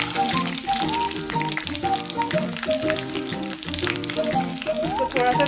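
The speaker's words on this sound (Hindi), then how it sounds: "इसको थोड़ा सा फ्राई करेंगे अभी।" Garlic frying in a pan for Indian-style Maggi masala pasta, following curry leaves, with a steady loud sizzle and some stirring running under background music, without speech.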